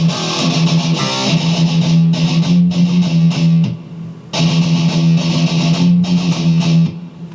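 Distorted electric guitar plays a riff slowly, with steady palm-muted chugs and accented strums in two loud, sustained phrases separated by a short gap.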